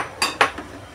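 Metal spoon scraping and clinking against a cooking pot while tempoyak (fermented durian paste) is stirred into blended chili, a few quick close strokes with short pauses between them.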